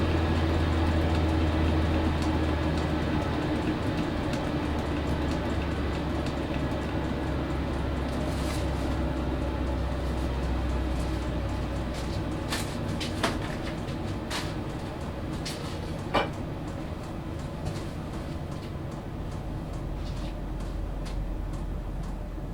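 A Chinese diesel heater fitted with quieting modifications runs with a low, steady hum and soft airy rumble, fairly faint and continuous, with a few small clicks along the way.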